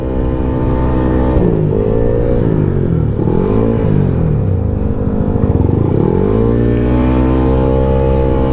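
A Yamaha Aerox 215cc scooter engine at a race track, loud and close, idling roughly and then revving up and down several times in rising and falling sweeps.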